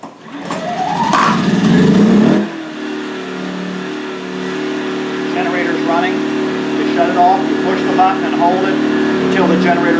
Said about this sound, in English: until the generator stalls